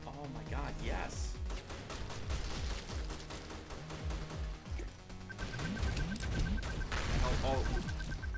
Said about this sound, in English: Oh, we got dual pistols now.